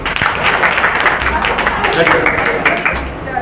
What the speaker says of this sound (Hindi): अच्छा है, ताली बजाओ।